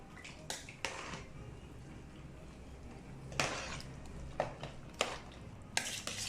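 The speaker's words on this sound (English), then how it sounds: "So I'm going to give it another stir now." A spoon stirs Christmas chilli paste in a pot, giving sharp scraping clacks at irregular intervals over a faint low simmer, close by and with no voice heard.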